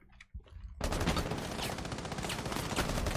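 Gunfire from Rainbow Six Siege in a collegiate esports league match, a sudden loud burst of rapid shots following a brief quiet moment, continuing as a dense volley near and forceful.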